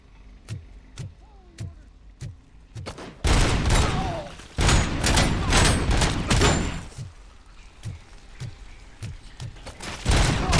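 Gunfire in RoboCop: Rogue City: single sharp shots at a steady rhythm, then a loud sustained burst of heavy automatic fire, easing back to spaced single shots, with no talk over it.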